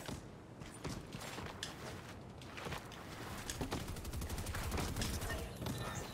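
Pistol gunfire in a tank-hunting video game, rendered as a dense, busy stream of sharp cracks and mechanical clatter that builds slightly louder over several seconds, with a faint voice underneath at times.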